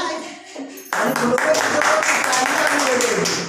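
A small group in a classroom bursts into lively clapping to congratulate a student who passed an SSC exam. Talk comes first, then the steady clapping carries on close by with voices underneath.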